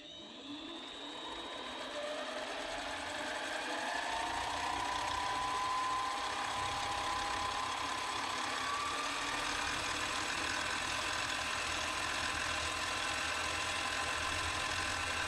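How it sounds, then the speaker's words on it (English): Small lathe spinning a buffing wheel against a Saint Patrick's Day shamrock ring, a steady high whirring hum that rises in pitch as the motor spins up, then holds at an even, continuous drone. "Now I'm going to mount a small buffing wheel into the lathe and polish the outside of the ring."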